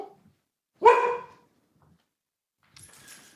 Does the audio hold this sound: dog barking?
yes